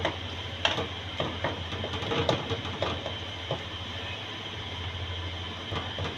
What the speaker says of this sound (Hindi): इसको थोड़ा सा और भून लेते हैं, टमाटरों को थोड़ा मैश कर लेते हैं इसमें